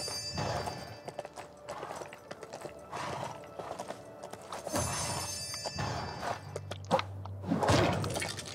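Horse hooves clip-clopping with a neigh in the Lego Worlds video game, rhythmic hoof thuds over game ambience, a whinny and low clunks near the end.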